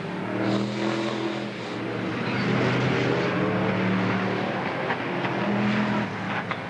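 Brisca Formula 1 stock cars racing around an oval track in a 1991 veterans race, engines roaring loudly and continuously with revving as cars pass, a steady dense motor drone throughout.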